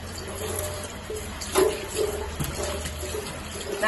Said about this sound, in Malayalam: അപ്പൊ വെള്ളം ഇങ്ങനെ ഒഴിക്കുക